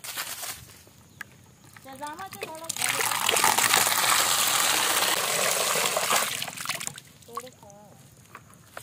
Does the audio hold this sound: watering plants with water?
yes